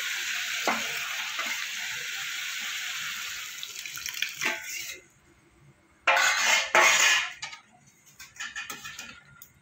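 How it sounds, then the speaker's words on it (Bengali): Boiled moong dal poured into a pan of cabbage frying with spices, giving a steady sizzle and wet, stirring scrapes that break off and return in bursts, close by with no talking. "এবার আমি দিয়ে দেবো সেদ্ধ করা ডালটা।"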